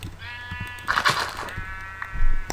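A sheep in the Minecraft video game gives a drawn-out bleat, with a short, slightly wavering tone heard clearly against quiet game background noise, followed by faint soft thuds.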